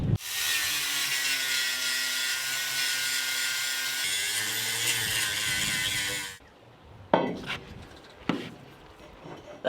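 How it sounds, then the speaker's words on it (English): An angle grinder bites into steel on an expedition boat, marking out spots for welding bollards. It gives a loud, sustained rasping whine for about six seconds, then cuts off, leaving a few sharp knocks and scrapes. "I need to grind"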